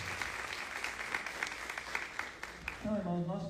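Church congregation applauding during a sermon, a scatter of claps at moderate distance over a room wash, with a voice rising near the end.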